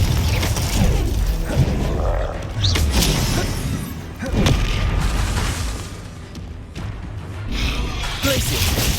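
Repeated Confringo fire-spell blasts in the Hogwarts Legacy video game, booming thuds and crackling bursts over a dense, continuous din of game combat, with a voice shouting spell names throughout.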